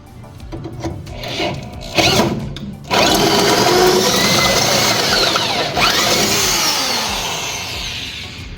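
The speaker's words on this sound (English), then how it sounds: "Let's drill these other ones while I'm doing this." A power drill whirs in short bursts, then runs continuously with a high, grinding whine that shifts in pitch as it bites through a metal vehicle frame.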